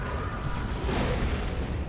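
A Laspred weapon misfires in a Warhammer video game, bringing a rolling, muffled explosion with a heavy low rumble that swells and fades over about two seconds, fairly loud against game background noise.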